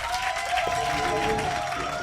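Audience clapping to welcome a gospel choir onto the stage at a Christian singing show, steady applause with crowd murmur and a sustained tone running underneath for about two seconds.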